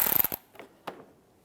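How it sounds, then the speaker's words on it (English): A T20 socket ratchet backs a screw out of the front inner fender liner on a 2011-2015 Chevrolet Cruze: a quick burst of close, rapid ratchet clicks, then a couple of isolated faint clicks and taps in a quiet space. "take this screw out here,"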